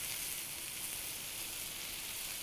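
Chicken tikka sizzling in a pan over low heat, a steady, even frying hiss that continues unbroken throughout with no voices.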